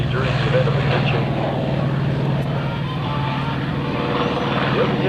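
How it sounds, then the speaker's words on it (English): An FG-1D warbird propeller plane flies by at an airshow, its engine droning steadily and loudly with a faint rise and fall, while a voice speaks over it. "The FG-1D that you saw a little earlier today is going to be flying by"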